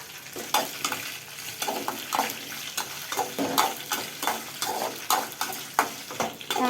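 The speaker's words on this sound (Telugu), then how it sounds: "తాలింపు వేగిపోయింది." Dried red chillies, curry leaves and cumin seeds sizzle and crackle steadily in hot oil as a tempering for potato kurma, with repeated stirring scrapes in the pan and no talking.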